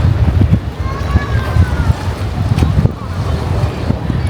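Strong outdoor wind buffets the microphone in a cold Thai city setting, a steady rumbling roar with low gusting thumps throughout, loud and continuous with faint talk underneath.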